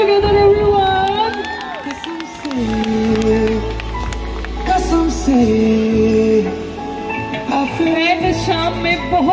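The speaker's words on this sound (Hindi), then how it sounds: "Please put your hands together everyone." A crowd applauds and cheers at a live event, with music playing and shouts rising through a steady wash of noise lasting several seconds.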